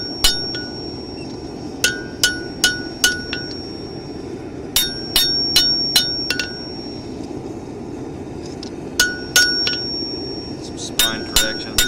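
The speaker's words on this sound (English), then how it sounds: "I'm going to slowly start doing the final bit of hammering on this." A forged knife blade is hammered on an anvil in bursts of sharp, ringing metallic strikes with bright clangs. The blows come in quick groups separated by short pauses over a steady workshop hum.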